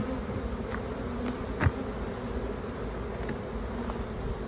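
Honey bees buzz steadily on a black hive frame, a constant close drone with a brief knock partway through.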